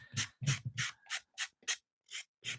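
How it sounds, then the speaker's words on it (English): Small handheld sander working over a painted mixed-media artwork of a dog, rounding the corners: eight short, even rasping passes in a steady rhythm, close and clear with brief silences between, no talking. "Just do a little fine tuning with your lighter sander."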